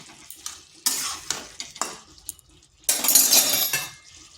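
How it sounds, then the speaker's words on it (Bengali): Okra and potatoes being stirred in a pan for spicy vendi masala, with irregular scraping and clinking strokes against the metal and a louder, sustained stretch of stirring near the end. "ভেন্ডিগুলো খুব ভালোভাবে মিশিয়ে নিচ্ছি।"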